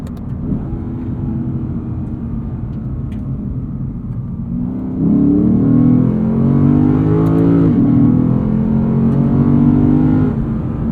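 A 2020 Lexus RC F V8 engine pulling hard under acceleration, loud and close from inside the cabin, its tone rising steadily, dipping briefly at a shift, then climbing again.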